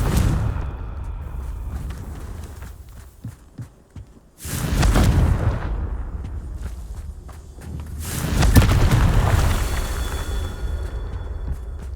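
Confringo spell explosions in the Hogwarts Legacy video game, two heavy booming blasts that each swell and roll on for a few seconds, with quieter footsteps and scuffling between them.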